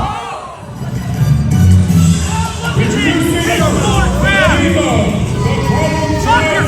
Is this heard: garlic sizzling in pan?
no